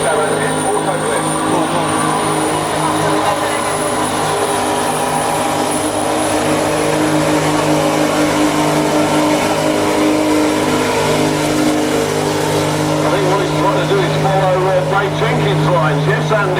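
A BTRA race truck doing a burnout, its engine holding a loud, steady roar with a droning tone for the whole stretch, with a voice faintly over it at times.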